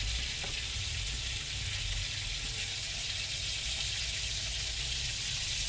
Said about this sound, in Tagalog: Baliktarin ko lang yung ating isda na pinirito.